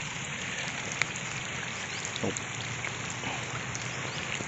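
Steady rain falls outdoors beside water where frog and tadpole bait is set for fishing, a dense even hiss of drops with a few faint close taps and no talking.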